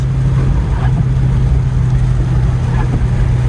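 A Cobra sports car drives with a loud, constant low engine rumble and road roar, heard steadily from the cockpit and never letting up, no voices over it.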